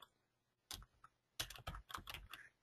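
A short burst of keystrokes on a computer keyboard, a few isolated taps followed by a quick cluster of clicks, close and quiet with no voices.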